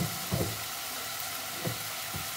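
Onions frying in a pan with salt for a spinach and potato curry, a steady close sizzle with a few soft stirring scrapes, and no voices.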